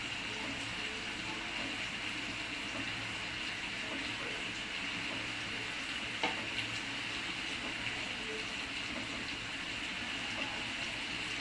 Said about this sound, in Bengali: এরপর দিয়ে দিচ্ছি মাছের ডিমগুলো একে একে বসাই দিচ্ছি।